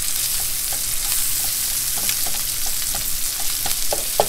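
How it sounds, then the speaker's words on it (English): Onions caramelizing in a pan for a catfish dish sizzle and fry in a steady, close hiss with small pops and crackles throughout, and no one speaks. "We got our onions caramelizing. They're doing their thing."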